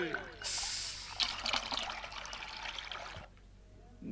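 Soda poured in a steady, fizzy trickle, close and fairly faint, running for about three seconds before stopping abruptly, with music and talk underneath.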